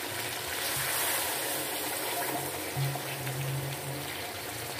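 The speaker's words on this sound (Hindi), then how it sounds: "अब इसमें हम थोड़ा सा पानी डाल के" Water pours into a pan of fried potatoes, a steady, fairly quiet rushing and sizzling wash that runs the whole stretch without talk.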